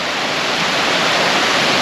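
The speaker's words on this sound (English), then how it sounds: "the water is actually flowing down from Stickle Tarn" Mountain stream of water tumbling down from Stickle Tarn in the Langdale Valley, a steady, loud, close broadband rush with no break and no voices.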